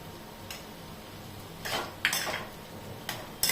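Spoon scraping and clinking against a pan while samosa stuffing with coriander is stirred and sautéed, several short metallic scrapes in an irregular rhythm, close and fairly soft with no talking.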